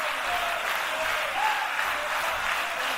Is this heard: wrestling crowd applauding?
yes